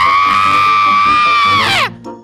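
A long, sustained high-pitched scream in a Minecraft game, loud and close, holding steady before sliding sharply downward and cutting off.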